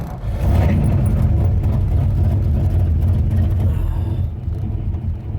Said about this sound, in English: Pull the choke out about halfway, just to get enough RPM so I can tell when the engine dips.